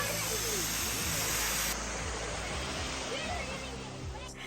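The waterfall at Silver Falls park roars as a dense, constant rush of falling water heard up close from the trail behind the falls, steady and loud with no break.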